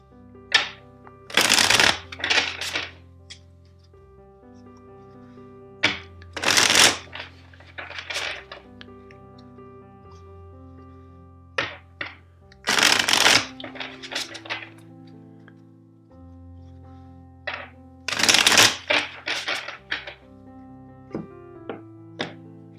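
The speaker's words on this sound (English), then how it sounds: "First, let's shuffle the deck four times for you." A tarot deck being shuffled in four separate bursts of riffling and tapping, each a few seconds long, close and crisp, with quieter handling and card-squaring knocks between bursts and no talking.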